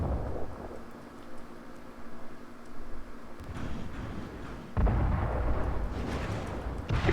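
Missiles and anti-missile weapons firing in MechWarrior Living Legends: heavy booming blasts and rolling explosive rumble, loud and close, with repeated bursts building toward a thicker barrage near the end.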